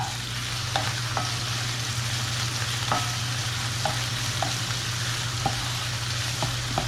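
Beef steak for Mexican-style carne a la mexicana fries in a preheated pan, giving a steady, close sizzle with a low hum underneath and occasional soft clicks of stirring.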